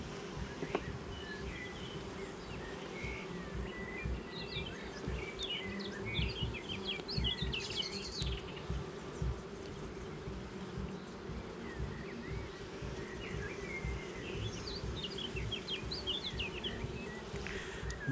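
Honey bees buzz around an open beehive during a May inspection, a faint continuous drone of many insects with occasional individual bees flying close, and faint bird chirps in the background.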